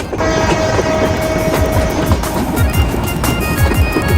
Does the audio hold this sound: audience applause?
no